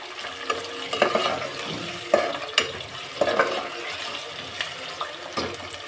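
Onions roast in a pan for paneer matar kurma, a soft sizzle broken by repeated scraping stirs of a utensil against the pan at irregular intervals, close and fairly quiet, with no speech.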